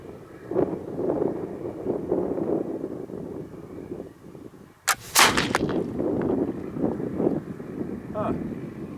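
A Northwest Trade Gun, a black powder flintlock, fires one loud close shot midway with a sharp crack and a rumbling tail, over steady outdoor wind noise on the microphone.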